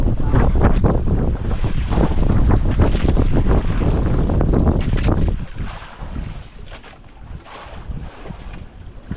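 Strong wind buffets the microphone in heavy gusts over rushing water and a boat's hull, easing slightly toward the end.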